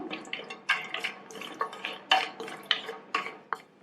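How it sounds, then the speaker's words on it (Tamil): Cashews roast in ghee in a pan while a utensil stirs them, producing a string of close, sharp scraping clinks at an uneven rhythm over a faint frying sizzle, with no voices. "இதுல 15 இருந்து 20 முந்திரியை சேர்த்து ஒரு 2 நிமிஷத்துக்கு வறுத்துக்கங்க."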